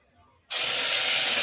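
Ground onion and tomato masala hits hot oil already tempered with cumin and red chilli powder, bursting into a sudden loud, steady sizzle that continues evenly after a quiet moment.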